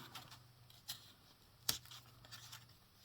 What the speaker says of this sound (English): see if it'll pop out with my scissors